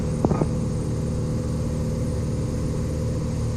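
Steady, loud engine drone of a Cessna 182 light aircraft in flight after takeoff from Kelowna, heard from inside the cabin as a continuous low rumble that fills the whole clip, with a couple of faint brief clicks near the start.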